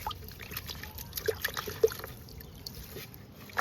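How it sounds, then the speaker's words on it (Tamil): Chrysanthemum roots rinsed by hand in a container of water, giving faint intermittent trickles and small splashes with soft sloshing throughout. "இதை அப்படியே என்ன பண்ணால் தண்ணியில் போட்டு அலசணுங்க"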